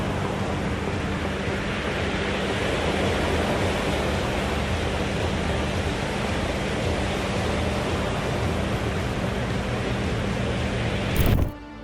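Heavy ocean waves surge around a container ship and a small patrol boat, a loud continuous roaring wash of water and wind with no letup until a brief burst near the end.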